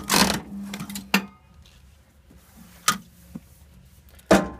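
A Warrior heavy duty calendar thumb cut punch slices through a paper stack, giving a few sharp, separate clunks and snaps at close range, with quiet pauses between the strokes.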